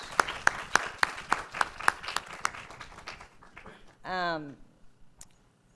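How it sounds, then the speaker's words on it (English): Audience applause at a talk on transportation for aging in car-centric America: crisp, evenly spaced claps for about three seconds that fade out, followed by a short swooping voiced sound. "I just want to give a round of applause to all of our speakers."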